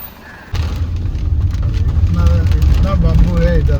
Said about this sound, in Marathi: आणि आपला ट्रक आता आलेला आहे म्हसरमध्ये.